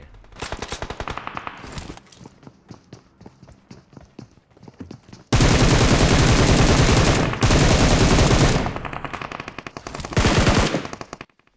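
Gunfire in the mobile battle royale game PUBG Mobile: scattered rapid shots at first, then long loud sustained automatic bursts with brief breaks, close and intense, no talking.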